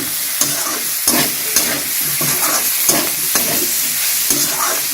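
Tomatoes and mixed vegetables for navratan being stirred in a pan, a loud close sizzle with regular spatula scrapes about every half second.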